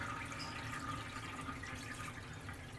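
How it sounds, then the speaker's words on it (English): Plain water is poured into a cooking pot over the ingredients for homemade Cajun boudin, making a faint, steady splashing rush that continues unbroken for a few seconds. "you want to take just plain water, and you want to pour this in"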